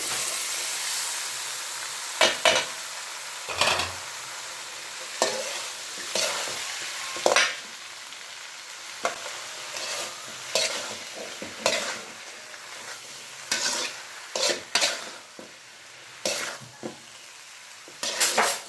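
Sprouted green gram being stirred with turmeric in a pan, a spoon scraping and clinking in repeated irregular strokes over a faint background sizzle, close and moderately loud with no talk.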